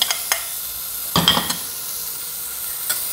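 Onion goes into a pan with garlic already browned, giving a soft, steady frying hiss broken by a few sharp spoon clicks and stirring scrapes.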